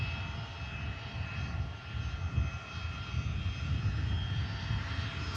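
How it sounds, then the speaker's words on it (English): Learjet XR extra-range business jet at Manchester Airport, its engines giving a steady, moderately loud whine and broad rumble that holds evenly throughout without a break. "Nice jet this. XR. Learjet XR."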